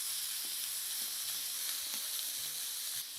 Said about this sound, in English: Mix them around a little bit to get the olive oil into every piece.